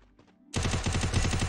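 Rapid automatic gunfire in a video game bursts in suddenly after a brief quiet stretch, a loud, dense rattle of repeated shots continuing steadily to the end.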